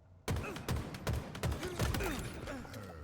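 Bandit rifle shots from a video game shooter ring out in a quick series of about seven sharp, loud cracks with booming low tails, evenly spaced and close, with no talking.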